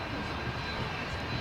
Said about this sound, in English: to our left there's a Jet 2 Boeing 757 just touching out